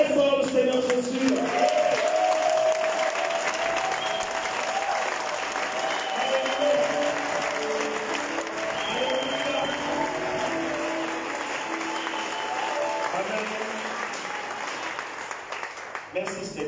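A church congregation at an opening worship service applauds loudly and steadily. The crowd claps for about fifteen seconds, with voices and cheering mixed in.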